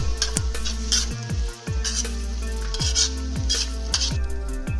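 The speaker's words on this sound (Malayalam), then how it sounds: "എന്നിട്ട് ഇത് നന്നായിട്ടൊന്ന് വഴറ്റിയെടുക്കുക." Sliced onions sauté with a pinch of salt in a pan, with a loud continuous sizzle and regular, rhythmic scrapes and knocks of a spatula against the metal.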